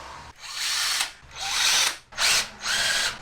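Power tool running in four separate bursts while removing the bolts that hold the coil packs to the engine of an Audi S3 (Mk7), close and loud with short pauses between runs.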